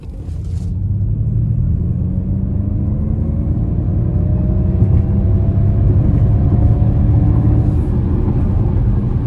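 A 2026 Ford Mustang Mach-E Premium RWD electric car accelerates hard, heard from inside the cabin as a loud, steady road rumble with a faint motor whine rising in pitch throughout, and no talking.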